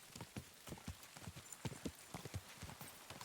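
Horse hooves clip-clop at a steady riding pace in the medieval game Kingdom Come Deliverance II, a rhythmic run of close, distinct hoofbeats with no talk over them.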